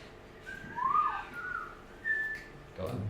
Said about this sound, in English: Pause for whistles.